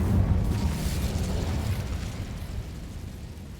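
An Incendio fire spell cast in Hogwarts Legacy gives a dense, roaring whoosh of flame, strongest at the start and then settling into a steady, fading rumble.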